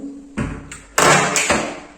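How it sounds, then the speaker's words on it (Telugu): A door bangs and rattles in three sharp, loud bursts about half a second apart, each trailing off briefly, with no talking. "ఇది చూసారా తలుపు ఈ సౌండ్"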